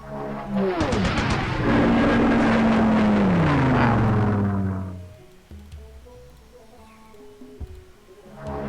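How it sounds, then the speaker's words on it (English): A Spitfire plane making a bombing run in the strategy game Civilization III, a loud engine drone that swells and bends downward in pitch over several seconds, then fades and leaves quieter scattered game sounds. "let's use another Spitfire to bomb"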